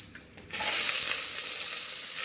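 Sliced large onions hit hot oil in a pan where cashews were just fried for a rice pulao, setting off a sudden loud, bright sizzle that holds steady, with no talking.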